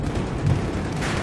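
A grenade explodes in the Battlefield video game, a loud dense boom with a low rolling rumble that fills the short moment.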